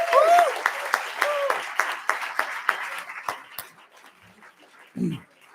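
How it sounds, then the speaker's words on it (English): A burst of audience clapping, rhythmic and fairly close, tapering off, followed by a short whine that sounds like a dog. "A round of applause for Dijon."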